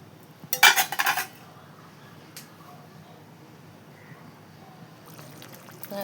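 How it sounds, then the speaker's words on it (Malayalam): Coconut fish curry being stirred in a pot, with a short burst of clattering utensil scrapes near the start, then a faint tap and quieter handling afterward over a low background hum. "എന്നിട്ട് നല്ലോണം മിക്സ് ചെയ്യാം"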